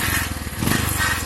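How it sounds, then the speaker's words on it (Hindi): A 135cc motorcycle engine idling after servicing, its exhaust note a rapid, even, close-up putter that stays loud and steady throughout. "एग्जॉस्ट नोट सुन लो इसकी एक बारी"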